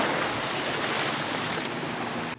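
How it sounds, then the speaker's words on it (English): Water waves washing in at a shore where boats are out, a steady broadband rush of surf and spray that stays loud and continuous throughout, with no voices. "There's some waves."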